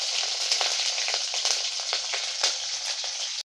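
A tempering of curry leaves and green chillies fries in hot oil with a dense, close, continuous crackling sizzle that cuts off abruptly at the end.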